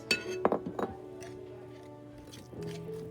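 A spoon stirring powdered sugar into melted unsalted butter in a bowl, with a few close, bright clinks against the bowl at the start, then quieter scraping and faint tinkling.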